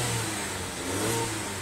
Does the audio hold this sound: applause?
no